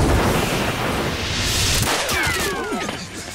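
A loud gunshot or heavy impact blast in a cutscene of the video game Judgment, starting at full strength and decaying into a rumbling tail, with a brief metallic ring near the end.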